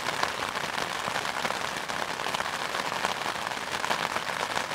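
Dense, steady rain falls at night on nearby surfaces, a continuous hissing patter of drops with no voices.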